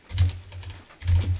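A prompt is typed on a computer keyboard for Copilot in two short bursts of soft, close key taps separated by a brief pause.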